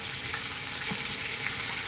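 Pot roast meat sears in an Instant Pot, a dense, even, close sizzle and crackle that holds steady through a short stretch.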